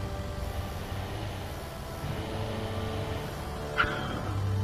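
A car driving along in the German survival game Expedition & More, with a steady engine drone and road rumble throughout and a brief sharp squeal near the end.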